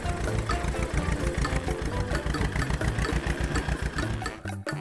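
A small mini brick tractor's diesel engine runs with a steady, rapid low chugging beat, loud and close, briefly dropping off near the end.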